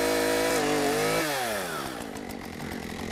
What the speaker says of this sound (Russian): Сегодня у нас бензопилы.